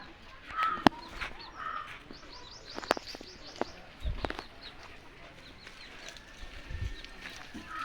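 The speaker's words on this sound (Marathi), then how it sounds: "ह्या साईडला पूर्ण फ्री रेंजमध्ये कोंबड्या असतात." Free-range chickens roam a farm, giving scattered clucks and soft calls amid other bird chirps, occasional knocks and a few faint voices.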